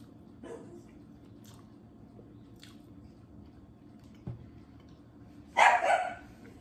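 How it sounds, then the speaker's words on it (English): A dog barks toward the front door, a couple of sharp barks standing out near the end over a quiet room with small chewing-like sounds. "so she's barking at whatever moves."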